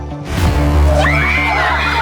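A scare actor at a haunted farm attraction lets out a loud, sustained, shrill scream at close range, rising and wavering over about two seconds with a harsh, strained edge.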